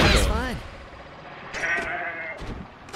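A goat in the video game Zanki Zero gives a wavering bleat at the start, then softer bleats follow through the rest of the clip over faint game background sound.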